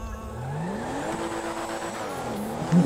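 A car in the video game GTA 5 accelerates with a rising engine note and squealing tires, a steady close mix without anyone talking.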